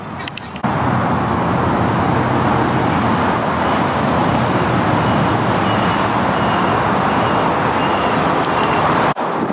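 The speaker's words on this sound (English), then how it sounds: "Super noisy. You can see there's a ton of cars down there." Dense, continuous roar of heavy highway traffic passing below an overpass, loud and unbroken with cars blending into a constant wash of engine and tire noise.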